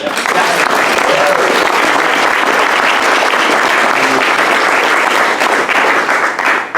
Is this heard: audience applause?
yes